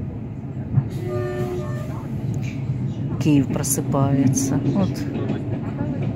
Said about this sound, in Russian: Электричка поехала местного значения